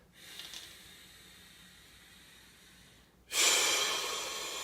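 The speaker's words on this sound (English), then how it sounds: "maybe do a couple breaths in the middle" Deep breathing during a morning yoga stretch, a soft steady exhale-like hiss that gives way to a louder, close rushing breath near the end.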